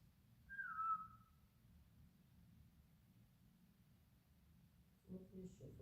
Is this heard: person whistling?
yes